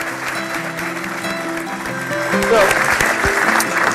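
Applause from a conference audience after a panel, a moderate spread of clapping that swells in the second half, with a person talking over it.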